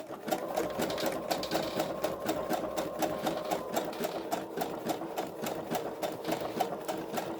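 A sewing machine stitches through cloth with a steady, rapid mechanical clatter and motor whir, running close and continuously with no talk.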